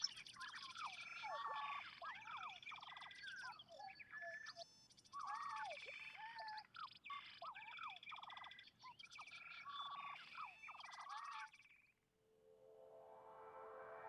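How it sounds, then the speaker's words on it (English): Recorded birdsong played back in a sound installation demo, a dense run of chirps, trills and squawks that fills the space at low level before giving way to a droning tone. "there's some birds."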